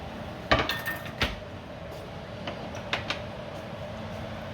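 A spoon scraping and clinking against a pot while stirring frijoles puercos with cheese, a few sharp metallic knocks early on, then sparse lighter clinks over a low steady background, with no talking.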